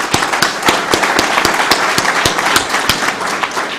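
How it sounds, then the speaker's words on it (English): An audience at the opening ceremony of a Kenyan moot court competition claps in sharp, fairly sparse bursts, with individual hand claps standing out over a moderate crowd wash. "So can we really clap for this case?"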